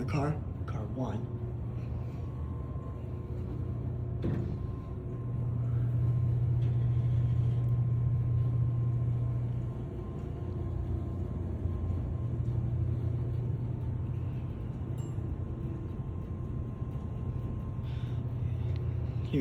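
A Dover relay-logic elevator car travels between floors in a building at 150 Clove Road, Little Falls, NJ: a steady low mechanical rumble and hum that swells mid-ride and then settles, with people talking over it.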